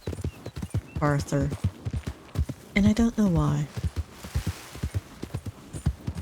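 Hooves of a few-spotted Appaloosa horse clip-clop steadily in Red Dead Redemption 2, close and fairly loud, running beneath a voice that talks over most of the stretch.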